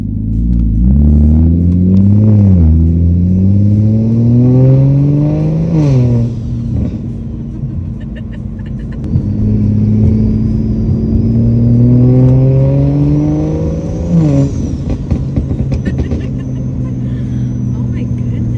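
A cheap, previously abandoned BMW fitted with a giant turbo revs hard, its engine climbing and falling in repeated loud sweeps with turbo whine, close up and continuous.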